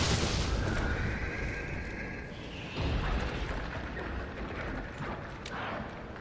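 A sewer creature monster in the Resident Evil 3 video game lets out a loud, rough, whinny-like cry, opening strongly and rising again partway through over a dense rumbling game backdrop.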